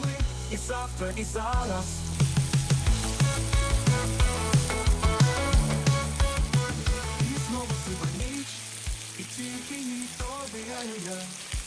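Meat tipped onto layered vegetables in a kazan (cauldron) for a New Year dish sizzles and fries steadily and fairly loudly for the whole stretch, with a tonal background underneath.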